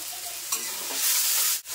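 Spices, tomato and turmeric frying and being stirred in a pan for Indian-style macaroni pasta, heard as a loud continuous sizzle with a few scraping stirs near the end.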